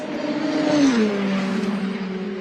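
Race cars in the World Time Attack Challenge at Sydney Motorsport Park drive past on a sighting lap over a track with oil and cement dust, their engines droning steadily and loud as the pitch slides downward while passing.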